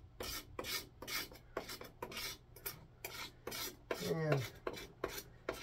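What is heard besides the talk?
scraping old stain off a hammer handle with a knife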